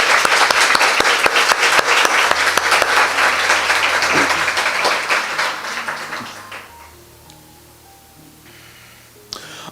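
Church congregation breaks into loud, dense applause that holds strong, then thins and fades away over the last few seconds to near quiet, with a faint tap at the end.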